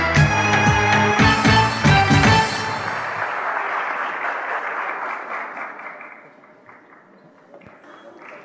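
An audience at a music award ceremony breaks into loud, dense clapping, then the applause thins and fades away over several seconds into a quiet hall.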